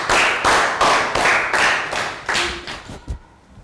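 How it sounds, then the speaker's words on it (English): A classroom of young pupils gives a round of applause in a primary-school English lesson, with several bursts of clapping in steady rhythm that fade and end with a few scattered claps. "Round of applause for everyone"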